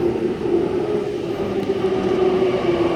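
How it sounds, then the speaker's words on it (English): A Sydney Trains Waratah electric train pulls into a platform at Epping station, a loud steady hum of motors and rolling wheels with a sustained tonal whine, close by throughout. "At Epping, we have a Waratah approaching platform number 5 for a Penrith via Macquarie University service"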